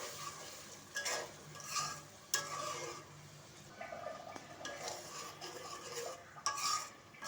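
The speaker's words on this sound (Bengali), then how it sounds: "দেন এখন মশলাটা 5 মিনিট কষিয়ে নেব" A masala paste of ground coriander and ginger-garlic paste is stirred and fried in a pan, a faint sizzle with frequent spatula scrapes and light clinks against the metal, no voices.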